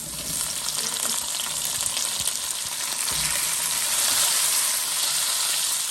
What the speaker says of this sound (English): Now we just want to allow this to fry in the oil so that the tomatoes and the onion can get a little bit softened.